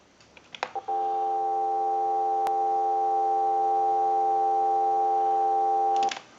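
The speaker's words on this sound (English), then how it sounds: "Go ahead and give you some dial tone." A Mickey Mouse animated telephone under repair produces a steady dial tone that holds unbroken for about five seconds, loud and close, after a few short clicks and ending abruptly.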